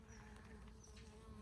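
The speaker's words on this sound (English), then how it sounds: "We have our lemon tree that is just loaded with bees." Steady buzzing of bees around a lemon tree in a garden, a faint continuous hum with a few individual insects passing close by.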